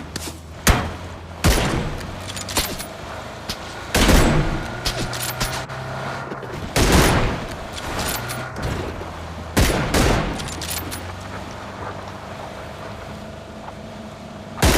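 Video game gunfire crackles in loud bursts of rapid shots, separated by quieter stretches of engine-like background rumble.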